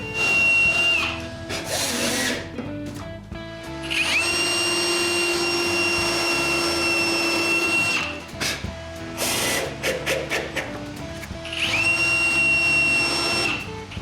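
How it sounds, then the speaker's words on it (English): A power drill bores screw holes through the back panel of a wooden bookcase in three bursts of rising whine, with a clattering pause between them, close and loud with no talk. "After putting it in place, I can drill the holes for the screws."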